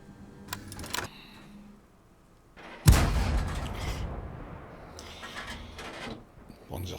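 In World of Tanks, a tank cannon lets off one sharp, loud blast followed by a rolling rumble that fades slowly. Fainter thuds come just before it.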